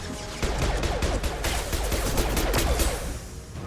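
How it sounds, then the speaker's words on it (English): Flashbang grenades going off in a Mass Effect 2 firefight, a dense burst of loud overlapping cracks and bangs that rattle on for a few seconds before trailing away. "Flashbangs."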